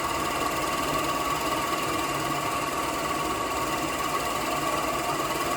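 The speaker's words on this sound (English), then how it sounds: "the lathe is also a horizontal drill press" A steady, constant wood lathe whir with a rapid rattling vibration while drilling into wood, unbroken and fairly loud, with no voices.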